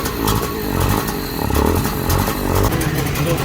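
A Trabant 601 two-stroke engine fires up and revs, a loud rough buzzing clatter that rises and falls in uneven surges, close up, with no speech over it.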